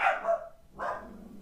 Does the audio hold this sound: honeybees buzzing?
no